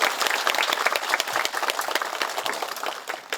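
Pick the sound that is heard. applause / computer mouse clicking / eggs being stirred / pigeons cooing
applause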